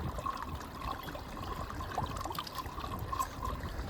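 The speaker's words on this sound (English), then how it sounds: "This is very pure and very cool water." Cool, pure mountain stream water trickles and dribbles steadily at close range on a high-altitude trek, a soft continuous babble with no voices.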